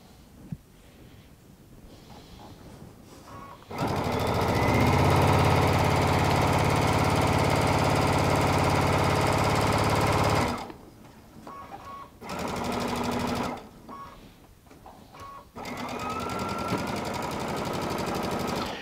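A sewing machine stitches quilt seams in long, steady runs of rapid mechanical whirring, loud and close, stopping and restarting in shorter bursts with brief quiet gaps between.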